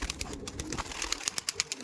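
Giribaj pigeons cooing and fluttering close by, a run of soft rhythmic coos with scattered sharp clicks and rustles.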